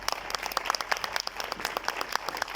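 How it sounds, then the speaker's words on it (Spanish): An audience applauding panelists at a legislative forum, steady dense clapping from many hands, moderately loud and sustained throughout with no speech on top. "A nuestros panelistas un fuerte aplauso"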